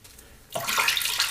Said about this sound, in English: I'm just dripping a little bit of water on there just to make sure that the brush starts off wet